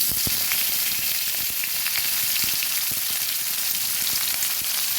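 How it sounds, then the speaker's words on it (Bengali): A large chopped onion fries in oil, an even, continuous sizzle with scattered soft crackles and pops throughout, close and steady with no one speaking. "এখানে বড় সাইজের একটা পেঁয়াজ দিয়েছি। ভালোভাবে ভেজে দেব।"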